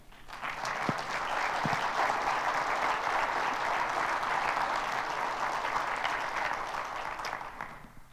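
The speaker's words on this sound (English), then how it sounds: "you should give them a round of applause" An audience applauds veterans at a presentation, a steady dense wash of clapping that swells quickly, holds for about seven seconds and fades out toward the end.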